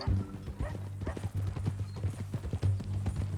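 Horse hooves clip-clop on the ground in the Red Dead Redemption 2 video game, a close, steady rhythmic walking beat over a low ambient hum.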